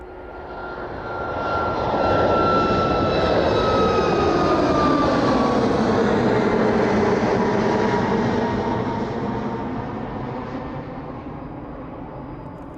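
A Malta Air passenger jet takes off from runway 27 at East Midlands Airport in the evening, its engine roar swelling into a loud, sustained rush with a falling whine as it passes, then slowly fading away.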